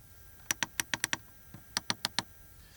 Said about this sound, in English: The lower area still has a separate climate function with a nice clicking sound.